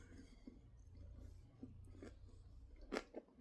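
Close-up chewing of smoked barbecue pork belly, with soft wet squishes and a few crunchy bites spaced irregularly, quiet and with no talking.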